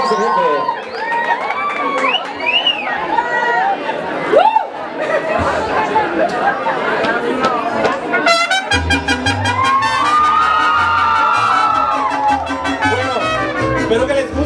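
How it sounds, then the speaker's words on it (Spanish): Lively crowd chatter and cheering at a Women's Day mariachi serenade in an engineering school setting, with excited shouts and whoops, followed by the band's music beginning, loud and busy with overlapping voices. "vamos a recibir a un cantante aquí, pero con un fuerte, fuerte, fuerte aplauso"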